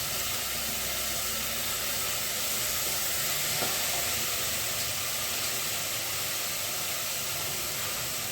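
Soaked Dawat basmati rice tipped into a hot pot for pulao gives a steady, broad hiss and sizzle that holds evenly throughout, with no voices over it.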